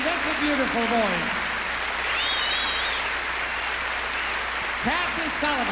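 A live audience at a 1982 touring show applauds in a steady, dense wash of clapping throughout, with a musical tone and voices briefly heard under it.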